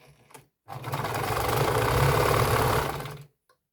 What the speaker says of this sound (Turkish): ters yüzünden derin bir dikiş dikiyoruz